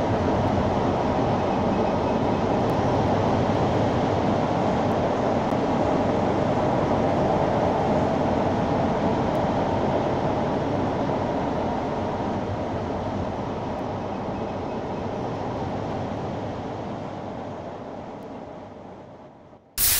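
A metro train on the Lake Loop Line in a Minecraft automatic subway system rumbles steadily along the track, loud and continuous before easing off near the end.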